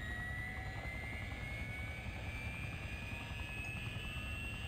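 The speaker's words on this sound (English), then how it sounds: "Let's get in our helicopter." A Bell helicopter in Farming Simulator 15 lifts off over a logging map, its rotor and turbine making a steady, loud drone that holds unbroken with a faint rising whine.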